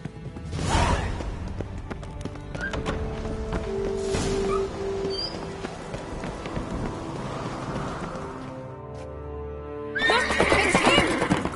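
Horse whinnies loudly in The Witcher 3, a neigh rising twice within a busy game soundscape of hoofbeats and ambient rain-like noise, with another sharp whinny near the end.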